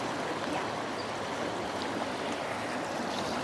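River water flowing in a steady, even rush with no break, a soft continuous wash heard alone without any voices.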